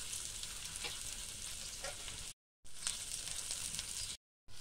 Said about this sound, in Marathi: तेल तापले, याच्यात मी आता एक कांदा टाकते, मिरची पण टाकते